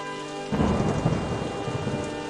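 A thunderstorm with rain in the theme-park game OpenRCT2 starts abruptly with a low rumble of thunder, then steady heavy rain hisses on, loud and continuous with no voices.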